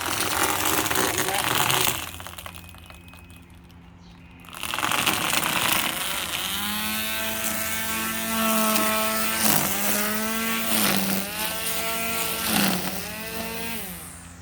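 A portable electric string trimmer whines at high speed, cutting through tall grass, stopping briefly before revving again with repeated pitch dips as it bites into growth, close and loud.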